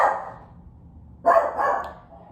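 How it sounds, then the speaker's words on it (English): An indoor dog gives two barks, the second a fuller burst followed by a brief trailing yelp, close and fairly loud against a quiet room. "When he barks, his whole body like shakes."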